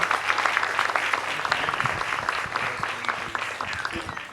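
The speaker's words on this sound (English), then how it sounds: "Give him a round of applause as he comes up" Audience applause at a live iLead leadership event at Newcastle University as speaker Glen James comes up, brisk clapping from a room of people, loud and steady, thinning slightly toward the end.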